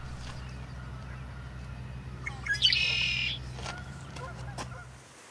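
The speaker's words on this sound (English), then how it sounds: "Males and females make the distinctive call that can be heard year-round throughout the cattail marshes." A red-winged blackbird calls in a cattail marsh, one short bright buzzy burst in the middle against a steady low hum and quieter bird chirps.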